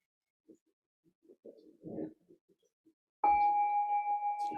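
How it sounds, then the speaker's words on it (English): After a few faint, scattered murmurs, a small bell is struck once, loud and close, and its bright tone rings on steadily as it slowly decays. "A little bell."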